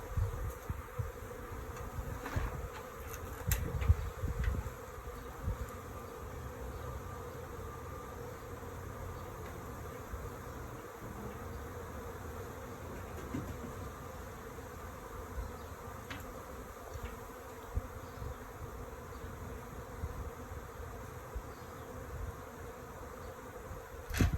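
A continuous low drone of a bee swarm in a tree buzzing steadily, close and fairly even, with a few louder bursts early on and no talking.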